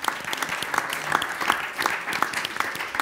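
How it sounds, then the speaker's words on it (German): Audience applause at a tattoo and body art event, a steady patter of many hands clapping with scattered sharper claps, moderately loud and close, without speech. "Vielen Dank, ein Applaus an alle."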